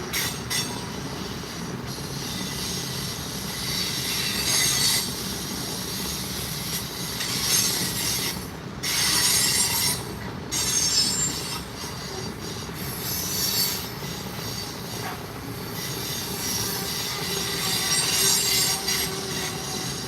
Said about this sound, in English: And as you can hear, the train is slowing down